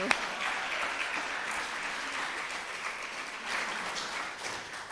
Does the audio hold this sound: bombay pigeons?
no